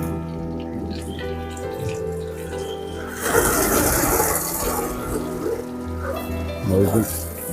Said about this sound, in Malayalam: വെള്ളം ഒഴിച്ച് വാഷ് ചെയ്ത് തുടച്ച് കഴിയുമ്പം